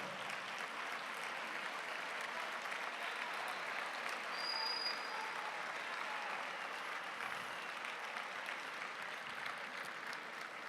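A lecture audience at a Latin American progressive conference applauds at length, a dense steady wash of many hands clapping that holds evenly from start to end.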